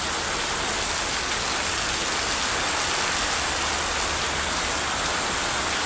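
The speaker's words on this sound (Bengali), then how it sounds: "আর কি পরিমাণ বৃষ্টি!" Heavy rain pours down at Mymensingh station, a dense, loud and unbroken hiss of falling water with no voices.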